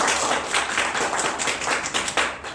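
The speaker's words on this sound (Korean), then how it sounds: "큰 박수로" A small audience claps for a guest speaker at an arts school lecture, a close, dense burst of hand clapping with audible individual claps, steady and loud.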